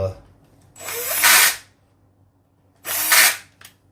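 A power screwdriver whirs in two bursts, its pitch rising and straining as each screw drives home into an RC crawler's beadlock wheels, loud and close with a pause between.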